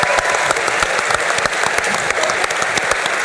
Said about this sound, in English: Let's give them one more big round of applause for the team.